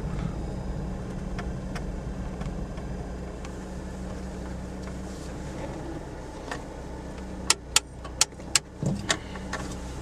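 A safari car's engine hums low and steady as it creeps through a South African lion park, with a few sharp clicks and knocks from the vehicle near the end.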